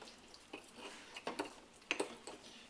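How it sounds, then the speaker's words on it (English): A spoon stirring thick chocolate muffin batter in a mug, giving faint, irregular clinks and scrapes against the mug in a quiet kitchen. "now the mix is getting very thick, so this is where you need to stir vigorously"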